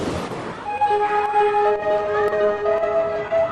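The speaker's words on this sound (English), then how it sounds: "In Hawaii, warning sirens alert people of an impending tsunami." Tsunami warning siren in Hawaii, a loud sustained wail of several overlapping tones holding steady and shifting pitch slightly, with a burst of noise at the start.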